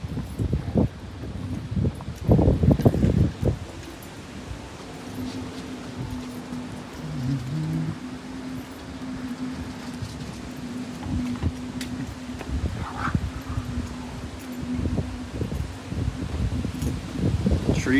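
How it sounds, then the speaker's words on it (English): Strong wind gusts through trees at a San Diego marina on the docks, a steady rustling roar with louder bursts early on and a faint low hum underneath. "Trees are blowing like crazy."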